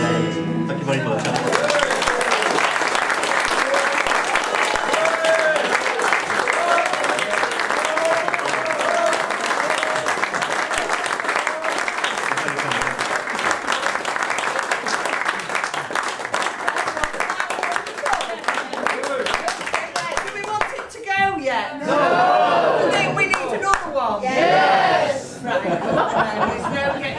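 Audience at a live pub-song performance in Manley, October 2023, breaks into loud sustained applause with cheering, chuckles and chatter mixed in, while a voice talks over the clapping near the end.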